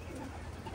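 Racing pigeons cooing inside a loft, a low, steady murmur of soft coos under a dense, noisy background, close and continuous.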